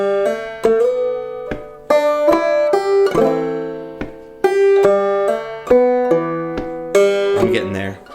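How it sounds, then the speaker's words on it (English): Clawhammer banjo plays a bright plucked melody, with rhythmic muted clucking strokes on the offbeats, close and clear with no voices. "I think in the tab I wrote in this cluck backbeat."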